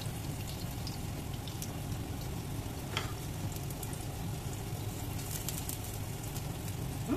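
Ginger frying in a pan of oil while preparing soy chicken, a steady close sizzle running throughout with faint stirring clicks and no talking.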